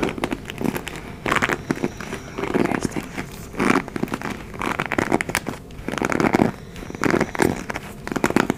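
Hairbrush bristles dragged through hair in close ASMR style, a run of crisp scratchy strokes that swell and fade in uneven bursts, each stroke lasting about a second, with no talking.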